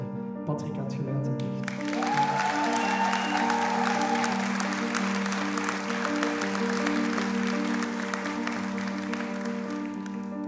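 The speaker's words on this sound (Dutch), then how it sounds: "Mag ik een groot applaus voor Patrick aan het geluid." Live concert audience at a Tinnenpot show applauding the sound engineer, a broad wash of clapping and crowd noise that swells after a brief start and holds steady over sustained music tones throughout.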